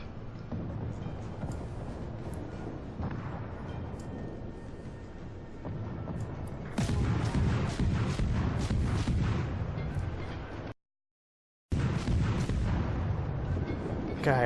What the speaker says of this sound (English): I forgot how much the Dresden likes to volley its shots